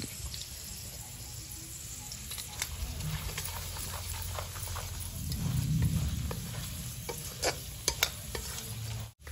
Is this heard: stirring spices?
yes